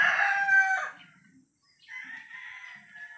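A street comb gamefowl rooster crows loudly and close by, then gives a second, softer crow after a short pause, with no talking.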